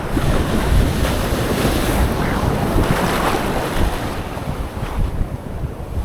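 Sea waves churn and wash steadily around a boat on clear water, a loud, constant surf roar with wind buffeting the microphone throughout.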